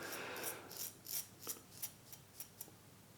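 A Caveem gun metal black double-edge safety razor, lathered with D.R. Harris Windsor shaving soap, scrapes through a couple of days' stubble in a series of short, crisp rasping strokes, close and quiet with brief gaps.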